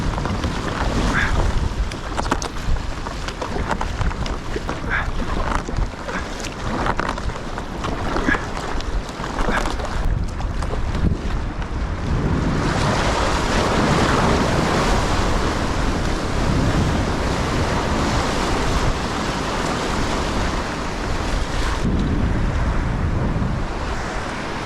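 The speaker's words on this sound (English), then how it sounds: "try and get through the surf break without getting too wet" Boat pushing out through a surf break on a wild west coast fishing trip, with continuous loud crashing waves and heavy wind buffeting the microphone throughout, no voices.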